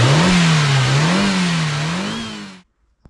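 An Audi 100 C4 with a swapped AJL 132 kW engine gives a single loud, close rev. The pitch rises and wavers, then holds briefly before the sound cuts off abruptly.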